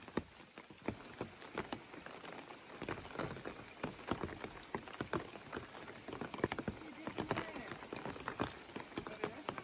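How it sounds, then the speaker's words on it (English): All-day rain falls in the forest of Maine's 100 Mile Wilderness, a quiet, scattered patter of drops tapping on surfaces and rain gear in an irregular rhythm. "we're rain geared up, ready to hike as far as we can in the all-day rain"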